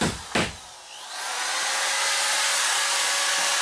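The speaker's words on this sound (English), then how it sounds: "Kyle's screwing up the board with the screw gun." A screw gun drives screws into drywall board on a ceiling, opening with a short sharp burst, then settling into a sustained high, hissing whir that holds steady to the end, close and fairly loud with no talk.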